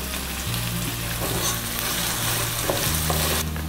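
Onions and green chillies fry with salt in a pan for a vegetable pulao, giving a steady close sizzle and crackle with occasional stirring scrapes and a low hum in the background.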